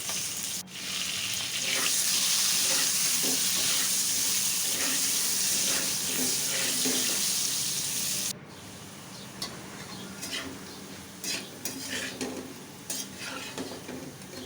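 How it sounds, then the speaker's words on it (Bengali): Potato pieces sizzle and spatter in hot oil in a pan, with steady frying hiss and scattered stirring scrapes. A sharp clatter cuts in partway through, and the sizzle continues a little quieter after it. "এখন এই তেলের মধ্যেই আলুগুলো ভেজে নিচ্ছি"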